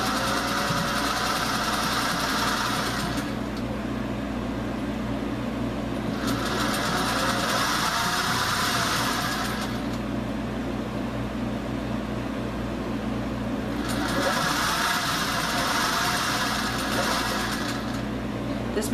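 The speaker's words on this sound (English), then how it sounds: "This machine is a Singer 201-2. It was made in 1949." A 1949 Singer 201-2 sewing machine runs in long stitching bursts with a steady mechanical hum, pausing twice between runs, close and clear with no talk.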